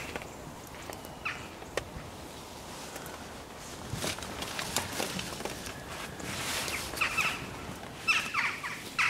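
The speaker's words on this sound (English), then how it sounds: "The magpies were chittering away in the background while I was setting the hide up" Magpies and other birds chatter and call around a farmyard on a cold, frosty dawn, a scattered chorus of short calls near and far over a low background hiss, with occasional rustling.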